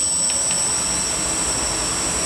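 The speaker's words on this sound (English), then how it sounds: "the drone is turned on" A fire extinguisher drone sits powered on with its rotors running, giving a loud, steady high-pitched whine and whir close by, with no talk.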